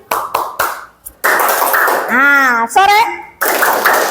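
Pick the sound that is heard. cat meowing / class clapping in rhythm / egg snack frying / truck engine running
class clapping in rhythm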